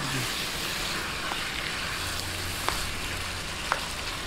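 Cubes of pork fry in a pan with a dense, even hiss of sizzling fat that stays steady throughout, broken only by a couple of faint clicks.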